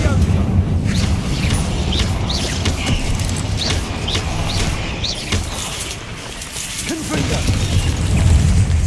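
Incendio fire spells are cast during a spider fight in Hogwarts Legacy, producing a loud, dense roar of booming bursts and rushing game effects, with a voice coming through the mix.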